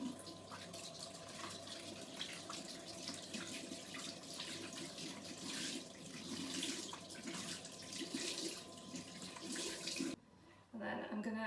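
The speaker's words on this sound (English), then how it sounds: "So I'm just going to soak it in some lukewarm water." Lukewarm water running from a tap into a bathroom sink to soak a cloth, a steady close hiss and splash that cuts off abruptly near the end.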